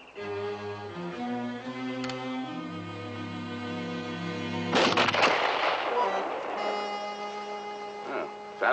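Film soundtrack from the 1958 classic The Light in the Forest, where gunfire in a shooting contest cuts in partway through. Sustained orchestral music plays first, then a loud burst of shots and echo, and the music resumes afterward.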